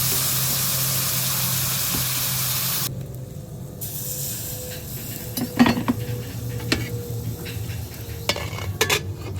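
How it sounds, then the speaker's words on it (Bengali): Tamarind water is poured into a pan of cooking okra: a steady broadband hiss and sizzle that cuts off abruptly, followed by quieter simmering with scattered utensil clinks and scrapes. "দিয়ে এবার দিয়ে দেবো তেঁতুল গুলিয়ে রাখা জলটা"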